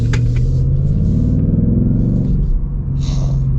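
2025 Ford Mustang GT with a 5.0 V8 and manual gearbox, a deep, loud, continuous engine rumble heard from inside while driving, easing slightly near the end.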